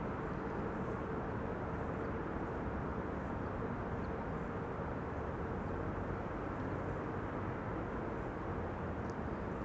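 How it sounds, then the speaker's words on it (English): A C-17 military transport rolling out after landing at Schiphol on runway 06, its thrust reversers winding down as a broad, even engine rumble that holds steady throughout, distant and unaccompanied by voices. "only now winding down the reversers."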